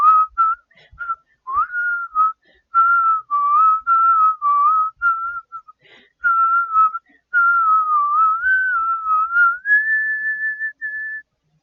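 A single person whistles a song solo, a clear, loud melodic line of phrased notes with short breaths between, ending on a long held tone.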